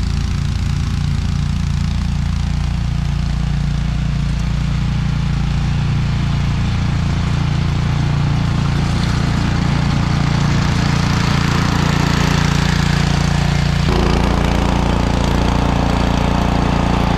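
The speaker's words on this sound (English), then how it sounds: "using your snowblower that's been sitting idle all summer long" A gas-powered snowblower, left idle all summer, runs steadily at close range with a loud, rough low engine drone that holds throughout, shifting in tone partway through.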